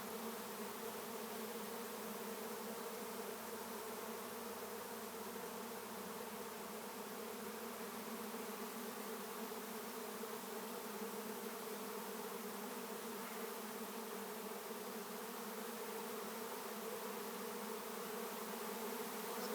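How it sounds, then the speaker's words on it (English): Swarm of a couple of thousand bees being captured, a dense, continuous buzzing drone that stays even and steady throughout, fairly faint and with no voices. "Got a couple of thousand bees here."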